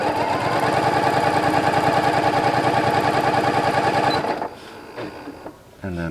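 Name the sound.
sewing machine stitching quilt blocks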